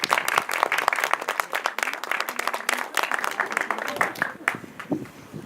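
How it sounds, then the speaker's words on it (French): An outdoor crowd at the 2017 Saint-Antoine Christmas market in Grasse applauds during the speeches, a lively burst of many hands clapping that tapers off near the end. "vous pouvez l'applaudir"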